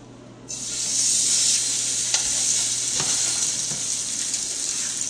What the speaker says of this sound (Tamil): நாங்கள் மீனை மரணேஷன் வச்சுருக்கிற மீனை தோலின் பக்கம் முதல் போடுவோம்